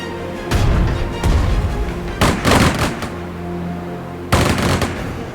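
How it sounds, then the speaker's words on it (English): Artillery shells explode in the strategy game Strategic Mind: Blitzkrieg, four loud, close booming blasts spaced irregularly apart, each with a rumbling tail fading between hits. "Shells hit for full effect!"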